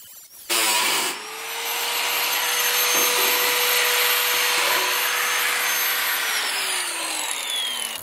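A handheld multi-tool power tool cuts interior sheathing around the ribs in an outdoor kitchen. After a sharp start it settles into a loud, steady whine with a shifting pitch, running continuously and close with no talking.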